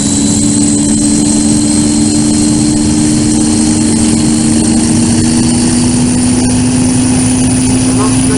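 A helicopter engine runs with a steady, loud droning hum and a constant high whine throughout, while a voice talks over it.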